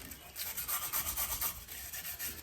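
Brisk back-and-forth scrubbing on metal lathe chuck parts during a South Bend lathe restoration, about a dozen close rhythmic rasping strokes without speech.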